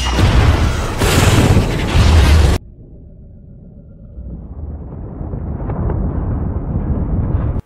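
A massive explosion aboard the Russian submarine Kursk in a film, a loud broadband blast roaring for over two seconds before cutting to a lower rumble that slowly swells with rising churning noise.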